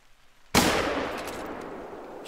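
A single loud rifle shot from a .270 in theHunter: Call of the Wild, a sudden sharp crack after near silence, followed by a long fading echo rolling out over open hunting ground.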